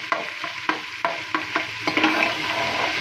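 Garlic frying in a pot sizzles steadily while a spoon scrapes and stirs in a regular rhythm of about six or seven close, sharp strokes, with no voices.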